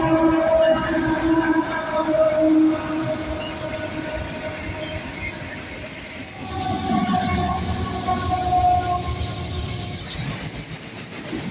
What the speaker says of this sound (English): an eastbound trackage right CPKC Autorack train, with a GEVO leading and old unrebuilt AC-44 as the mid-DPU